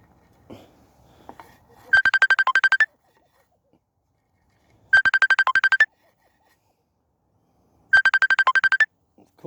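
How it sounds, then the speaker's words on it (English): An incoming call sets off a phone ringtone that plays three bursts of rapid electronic trill, each about a second long, separated by a couple of seconds of near silence, clear and close. "I am filming and I get a phone call"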